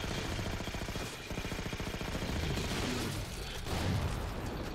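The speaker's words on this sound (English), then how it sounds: "taking the incineration cannon back out." Incineration cannon firing in the Halo 4 campaign, a dense rapid burst of repeated blasts forming a steady loud barrage across the whole stretch.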